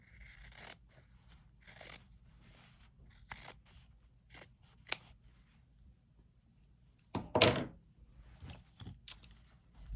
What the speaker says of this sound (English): Now we're just going to cut it.